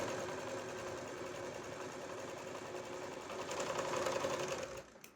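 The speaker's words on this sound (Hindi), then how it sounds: "इसके बाद हम इसकी सिलाई लगा देंगे आधा इंच के समथिंग" Sewing machine stitching fabric for a child's co-ord set, a steady faint mechanical whir with rapid needle clatter running continuously, briefly louder near the end before stopping.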